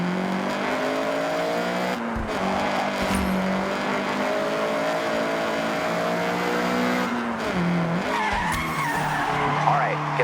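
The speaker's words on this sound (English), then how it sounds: "All right, get the CRX up to speed." A Honda CRX in the Forza Horizon 6 racing game accelerates hard with tires skidding. The engine note climbs and holds as a loud, close whine, briefly dropping and then squealing back up near the end.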